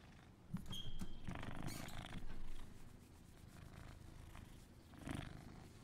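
A cat purrs in the video game Prey, a soft close rumbling purr running under a few light rustles and clicks, with no speech.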